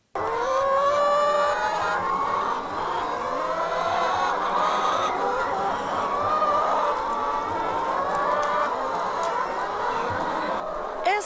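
A dense chorus of many laying hens clucking and squawking inside an egg-production poultry house, loud and continuous with overlapping calls throughout.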